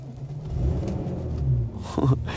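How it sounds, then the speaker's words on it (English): A classic Porsche 911 engine cranks and catches, settling into a low, steady rumble with a brief rev near the end, close by and fairly loud. "Got a real 911 sound."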